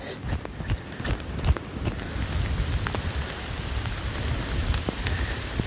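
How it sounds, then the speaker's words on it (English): Rain with a little hail falling in woodland, a steady dense patter of drops with scattered sharper ticks and taps from hailstones striking leaves and surfaces close by. "there's a little hail in this"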